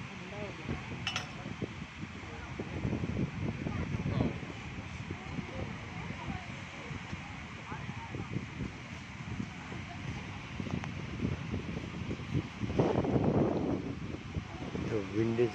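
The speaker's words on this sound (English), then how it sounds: "The wind is really in a frenzy here." Strong wind gusts roar steadily across a beach shack in Calangute, Goa, at night, a broad rushing buffet with light clinks and rustles, swelling louder near the end.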